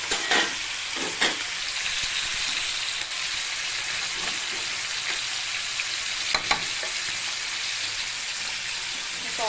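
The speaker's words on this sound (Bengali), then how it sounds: "মাছটা ভাজা হচ্ছে" Katla fish heads frying in a hot pan give a steady, bright sizzle with a few sharp pops and crackles spaced throughout, close and continuous.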